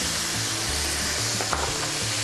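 Onions frying in a hot pan while Egyptian-style stuffed zucchini in yogurt is being cooked, giving a steady broadband sizzle throughout with a brief stirring clink near the middle, no talking.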